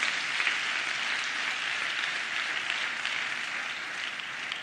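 A church congregation at a Tamil Christian service claps in steady, sustained unison, a bright even wash of many hands heard close and loud throughout.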